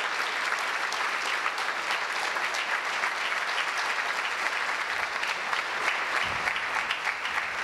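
Warm audience applause for a row of introduced individuals at a community college event against hate, dense sustained clapping from a large crowd throughout, with no speech on top.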